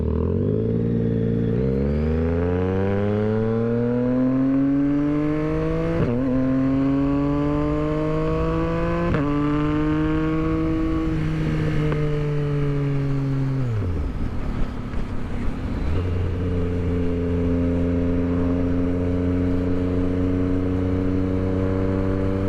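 A 2022 Yamaha XSR 900 motorcycle engine heard while riding, loud and close, revving up through several gears with rising pitch at each shift, then easing off and settling into a steady cruising drone.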